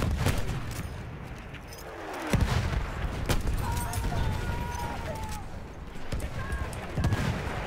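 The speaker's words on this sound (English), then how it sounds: "Enemy machine gun!" In Battlefield 1, gunfire crackles through a busy battlefield, with sharp shots and bursts over constant rumbling background noise and faint game sounds.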